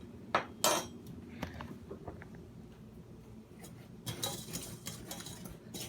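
A utensil stirs cornstarch and raspberry filling in a pot, with a few sharp clinks against the side early on, then a quieter scraping rhythm and a brighter burst of mixing near the end. No voices.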